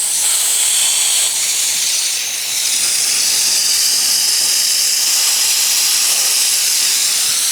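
Steam venting from an Afghan pressure cooker pot at about 1.6 atmospheres, a loud, steady, unbroken hiss that holds for the whole stretch with barely any dip.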